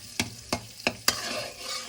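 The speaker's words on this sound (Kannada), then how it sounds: "ನೋಡಿ, ಈಗ ಬಟರ್ ಹಾಕಿದ್ದೀನಿ." Butter melting in an oiled pan, a low sizzle punctuated by four sharp, evenly spaced taps of a spoon or spatula against the pan, close by.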